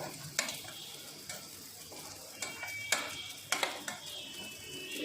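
Pasta stuck to a pan with no oil added is stirred, with a faint frying hiss broken by several sharp scraping and clinking strokes of a utensil against the pan.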